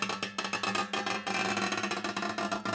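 Electric guitar picked between the E and A strings to mimic a creaking, opening door, producing a steady run of dry, percussive clicks and scrapes that sounds like ticking.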